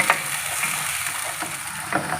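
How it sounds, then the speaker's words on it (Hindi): Two chopped onions fry in a pan toward a golden colour, giving a steady soft sizzle with occasional stirring scrapes. "इसको हम फ्राई करेंगे गोल्डन फ्राई होने तक"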